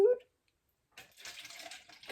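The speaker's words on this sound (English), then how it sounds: "the pouring noise is supposed to be like him vomiting all over the floor of the coach" Liquid poured out in a steady splashing stream, standing in for a character vomiting across the floor of a coach, starting after a short silence and running for about a second.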